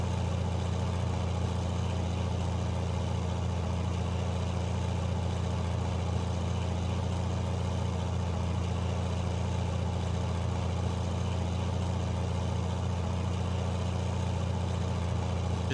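A John Deere 8630 tractor in Farming Simulator 19 hauls a cultivator, its engine holding a steady, low, even drone that runs without a break the whole time, with no talking.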